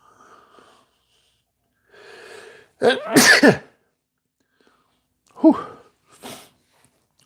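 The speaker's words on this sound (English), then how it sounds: "hold on, I'm gonna sneeze." A person sneezes loudly and close up after a couple of breathy inhales, then gives a second, shorter snort-like burst and a brief exhaled word.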